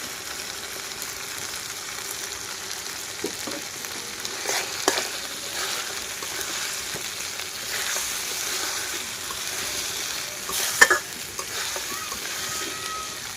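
Ground spice paste fries with chicken pieces in a village-style chicken curry, giving a steady sizzle punctuated by spatula scrapes and a loud clatter near the end, without talk.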